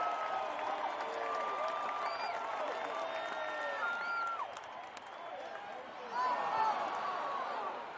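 Simulated stadium crowd in the OOTP 23 baseball video game roars and cheers after a strikeout, a sustained wash of voices and whistles that dips briefly and then swells again.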